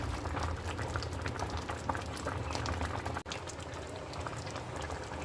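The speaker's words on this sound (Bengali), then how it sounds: "তো আরও আমি 15 মিনিট মতো এটাকে সেদ্ধ করে নেব" Tomato sauce made without onion or garlic bubbles steadily in a pot, a dense continuous patter of small pops and gurgles, close but quiet, with one brief break partway through.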